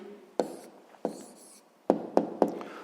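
A pen writes down a math answer on paper in a few short scratchy strokes and sharp taps, close and quiet, with no talking.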